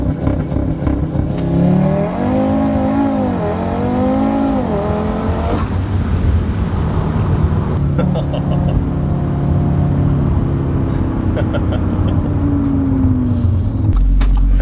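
Tuned Audi RS3 8Y launching from 0 to 100, its engine climbing through gears with rising revving sweeps and brief shift dips, loud and close inside the cabin and struggling slightly for traction.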